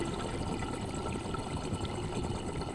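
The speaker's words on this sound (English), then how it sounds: "you can really hear the water volume moving in the" Water sloshing and churning inside a Juggernaut water pipe, a steady, close rushing wash with a low rumbling undertone and no talk.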